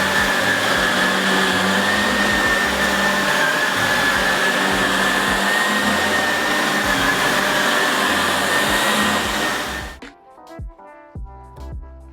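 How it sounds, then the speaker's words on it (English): A Shark NV360 upright vacuum cleaner running on low pile carpet, giving a loud, steady motor whine and rushing suction for about ten seconds before it cuts off sharply, followed by a few light clicks and thumps. "I'm gonna test if this vacuum leaves carpet lines and see, okay?"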